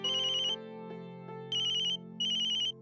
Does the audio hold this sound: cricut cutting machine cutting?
no